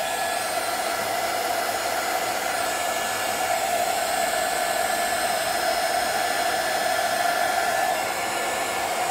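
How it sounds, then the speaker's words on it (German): A hair dryer blows steadily on drying glue on a Halloween craft house, a loud continuous whooshing hum with no break and no talking. "föhne ich es lieber schnell runter"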